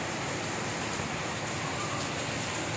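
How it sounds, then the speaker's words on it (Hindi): Heavy rain falls in Karachi, a dense, continuous hiss of drops hitting surfaces close by, steady and loud throughout with no voices. "आप देख सकते हैं वीडियो के दौरान ही कभी बारिश तेज़ हो रही है, कभी हल्की हो रही है।"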